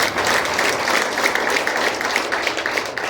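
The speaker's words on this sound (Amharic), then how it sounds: "እልልታና ጭብጨባ ለጌታ።" A church congregation claps and cheers in worship, a dense, loud wash of applause from many hands that holds steady for the whole stretch, with cries woven through it.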